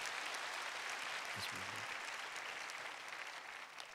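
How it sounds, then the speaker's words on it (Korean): Church congregation at a thanksgiving night service giving a round of steady, sustained applause, heard as a continuous wash of clapping from a large crowd, with a brief murmur of voices. "박수 한번 보내주세요."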